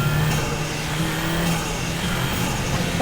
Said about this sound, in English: the induction noises of this car is stupid